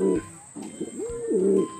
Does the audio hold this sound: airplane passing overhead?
no